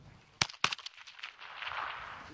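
Rifle shots at an outdoor shooting range with a 100-metre distance: two sharp cracks in quick succession, followed by rumbling echo and noisy outdoor wash.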